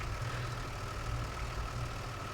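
A fire engine idles in a snowy firefighting video game, a steady low engine drone with a faint constant hum running alone and evenly throughout, with no talk.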